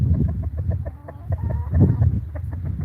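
Several chickens cluck busily and continuously at close range, overlapping low murmuring calls with no pauses.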